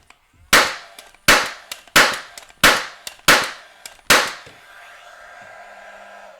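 A Paslode 16-gauge angled finish nailer fires six sharp, loud shots at an even pace, each crack followed by a quick ring-off. A low steady hum continues close by after the last nail.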